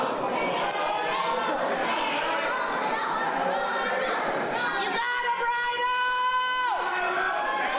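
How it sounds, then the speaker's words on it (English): Lively wrestling crowd at the Temple, a dense roar of chatter, shouts and cheers from many people, with a sustained whistle-like tone rising out of the noise partway through. "The crowd here tonight at the Temple is electric."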